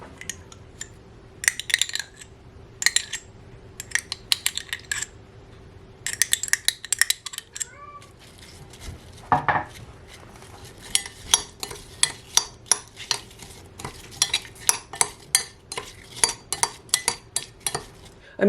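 A spoon mixes small chopped apple pieces with fruit spread in a bowl as a pie filling, giving repeated close clinks and scrapes against the bowl in bursts, with a brief quiet pause midway and no talking.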